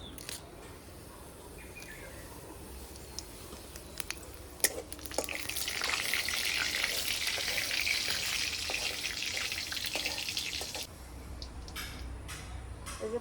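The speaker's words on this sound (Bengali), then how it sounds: "যে কড়াইয়ে দিয়ে দিচ্ছি সর্ষের তেল, আর ফোড়নে দেবো আমি 2টো শুকনো লঙ্কা," Dry red chillies, a bay leaf and whole cumin fry in mustard oil in a kadai, a steady hiss that swells into a louder sizzle midway, with scattered ticks and pops close by.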